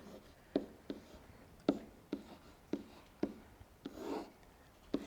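Chalk or marker writing out a derivative on a classroom board, a series of short, fairly quiet taps and strokes at irregular intervals, with one longer scrape near the end.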